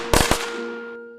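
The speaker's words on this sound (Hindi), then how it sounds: "गली में सब लोग न्यू ईयर के लिए पटाखे बॉम्ब सब जला रहे थे।" Firecrackers bursting in a street during New Year celebrations: two or three sharp, close cracks in quick succession, each fading into a short decaying tail, with steady tones continuing beneath.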